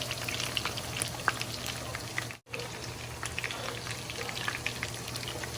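Chicken wings deep-frying in fish sauce give off a steady, close crackling sizzle with scattered pops and a low hum underneath, and the sizzle breaks off for a moment partway through.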